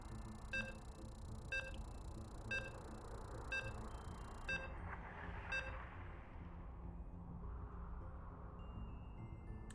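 StarCraft game-loading beeps sound as a run of short, evenly spaced electronic tones, about six in a row, faint and clear over quiet background, then stop as a soft whoosh follows.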